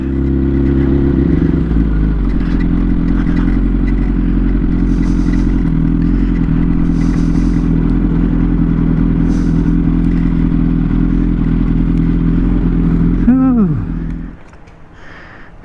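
A motorcycle engine idles steadily and loud, with a low rumble and rattling clatter throughout, then fades away near the end.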